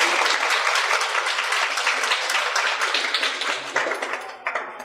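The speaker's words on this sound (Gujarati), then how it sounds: "તો વર્ષાબેનને આપણે જોરદાર તાળીઓથી વધાવીએ." A crowd at a Lions District Food for Hunger event gives loud applause welcoming Varshaben Shah, the clapping dense at first and thinning into scattered claps at the end.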